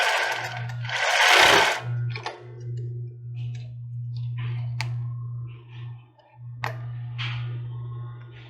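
A sewing machine hums at a low steady pitch while stitching a girl's bra cup, running in long stretches with a brief pause, mixed with scattered clicks and rustling of fabric nearby.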